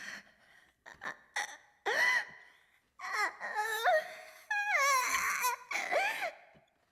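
A girl pants and gasps for air in the Chaos;Head NoAH visual novel, with ragged, whimpering breaths and strained, sobbing cries that come in close, uneven bursts.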